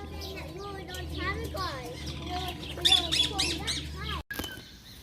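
An Indian ring-necked parakeet gives repeated harsh squawks and chirps at close range in a park bird garden, with people talking over the calls.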